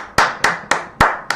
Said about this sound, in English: let's give Suri another round of applause